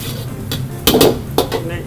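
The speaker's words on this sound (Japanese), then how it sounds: "でこれをしっかりと香りが出るまで炒めていってあげます。" Sichuan doubanjiang bean paste is stir-fried in a wok for seafood mapo tofu, with sharp utensil clanks and scrapes against the pan over a low background sizzle.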